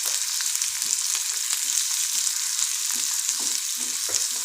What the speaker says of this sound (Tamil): அதே எண்ணெயில் கொஞ்சம் வெங்காயம் போட்டு ஃப்ரை பண்ணிக்கிறேன்